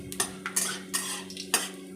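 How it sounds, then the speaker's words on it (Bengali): Bay leaf, panch phoron and dry red chilli stirred in hot oil in a kadai, several crisp scrapes of a metal spoon against the pan at a quick uneven rhythm over a faint sizzle, close and alone. "এই যে আমি নেড়ে নিচ্ছি বন্ধুরা"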